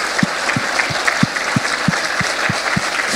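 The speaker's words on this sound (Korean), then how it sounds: "하나님께 영광의 박수를 올리고 싶습니다" A church congregation applauds during a Sunday afternoon service, with continuous clapping over a steady, regular beat of heavier claps or thumps about three times a second.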